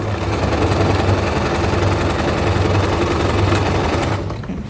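A sewing machine runs steadily, stitching a rough seam on a pair of pants with an elastic back waistband, a loud continuous mechanical whir that stops just before the end.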